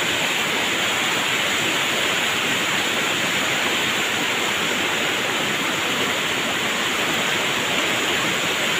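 A river rushes past in a steady, dense broadband roar, loud and close, with no breaks or talking and no change in level from start to finish.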